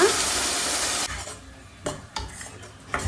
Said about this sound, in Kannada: ಇವಾಗ ಇದಕ್ಕೆ ನಾವು ಗ್ರೀನ್ ಕಲರ್ದು ಪೇಸ್ಟ್ನ ರುಬ್ಕೊಂಡಿದ್ದೀವಲ್ಲ ಅದನ್ನು ಆ್ಯಡ್ ಮಾಡೋಣ